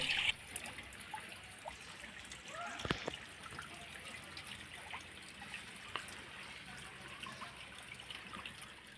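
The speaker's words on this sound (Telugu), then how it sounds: "ఆ నీటి ధార శివలింగం మీద పడి కింద జాలువారి అలా పడుతుంటే వచ్చే శబ్దం ఉంది" A thin stream of water falls onto a Shiva linga at Niladri temple, set among rocky hills in a forest, making a faint, continuous trickle and dribble with a soft knock partway through.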